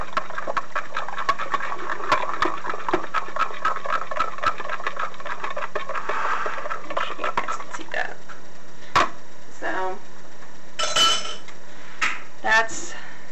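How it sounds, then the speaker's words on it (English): A spoon stirs yeast into liquid in a bowl to dissolve it for bread dough, giving close, busy clinks and scrapes against the dish, then sparse sharp taps and clatters toward the end. "stir this up until you get the yeast to kind of dissolve in there."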